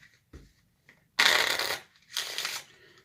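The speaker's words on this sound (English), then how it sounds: "And then you can do a riffle shuffle as long as you keep the 9 at the top." A riffle shuffle of a deck of playing cards: two quick bursts of riffling, each about a second long, with a soft tap or two beforehand. Close and fairly loud, with no talking.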